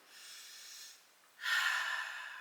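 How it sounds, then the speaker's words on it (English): Deep breathing during a yoga session: a soft, long breath, a brief pause, then a louder, airy breath close to the microphone. "Take a few seconds just to breathe deeply through the whole body."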